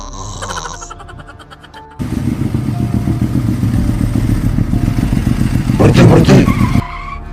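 An animated motorcycle roars loudly and continuously, with tires skidding and clattering, after a brief lead-in of other sounds and before a sudden cutoff.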